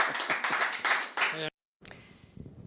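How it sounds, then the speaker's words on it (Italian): Quick burst of hand clapping for a birthday, several people clapping rhythmically for about a second and a half, then an abrupt cut and someone speaking. "Tanti auguri e un applauso."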